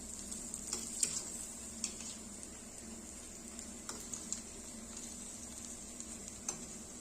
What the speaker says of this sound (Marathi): वडी छान क्रिस्पी होईपर्यंत आपल्याला तळून घ्यायची आहेत